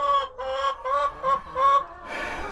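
Several chickens cluck in a row of short, repeated calls inside a chicken coop, close and fairly loud, ending in a rougher burst of noise.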